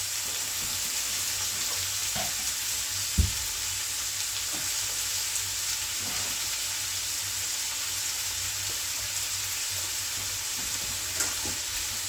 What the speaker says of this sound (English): leave that to saute